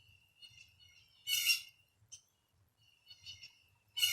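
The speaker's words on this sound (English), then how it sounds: "I think the birds like it." Birds chirp outdoors in short, bright bursts of high twittering calls, separated by quiet gaps, fairly close and moderately loud.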